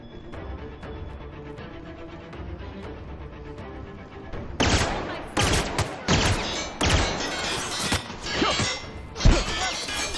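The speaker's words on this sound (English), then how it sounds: "Did you just shoot a corpse?" Gunfire in the video game Peril on Gorgon: after a quieter stretch, a rapid series of loud, sharp shots and bursts rings out close by, with a few spaced heavy bangs among them.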